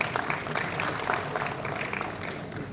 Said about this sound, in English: a round of applause for the 2 male Sumans sitting there